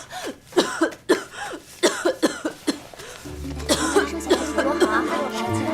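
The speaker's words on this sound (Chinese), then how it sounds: "隔壁是谁在咳嗽啊？" A woman coughs in a neighbouring room of a palace in a period drama, a run of sharp, evenly spaced coughs, followed by a softer stretch with a low hum and voices.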